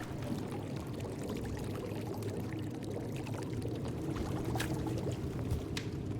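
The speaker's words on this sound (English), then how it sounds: "How does it have this much to pour out?" Crude liquid pouring out of a vessel in the video game Indiana Jones and the Great Circle; a continuous gushing, splashing flow with bubbly trickles, steady and fairly close throughout, no talking.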